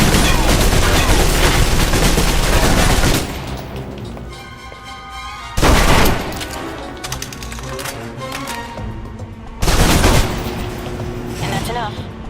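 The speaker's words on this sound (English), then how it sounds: "If you're trapped in close quarters with multiple opponents, the SMGs can help clear the room quickly" Submachine gun fire in the video game Alpha Protocol, loud rapid automatic bursts in three separate volleys separated by quieter gaps filled with game sounds and a faint voice.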